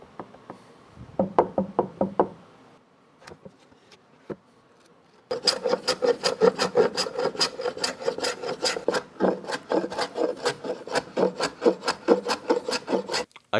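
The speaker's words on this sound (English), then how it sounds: "So it occurred to me I could just use my drum sander." A drum sander grinds a wooden piece for a guitar picking stool with Maloof joints. A few short rasping passes come first, then a dense, loud run of rhythmic scraping strokes close by.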